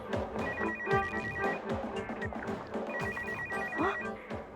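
A telephone rings indoors in two bursts of rapid electronic trills separated by a short pause. Other room sounds and faint knocks continue underneath.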